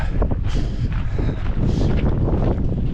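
Steady wind buffeting a microphone outdoors on a mountain trail race in the Verbier–St-Bernard area, a continuous low rumble with gusty swells, loud and close throughout, with no talk.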